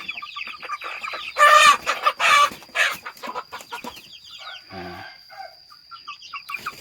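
Several chickens, four roosters and five hens, cluck and squawk in a lively, overlapping chorus, with louder bursts of calls rising over a steady background of clucking, fairly close by.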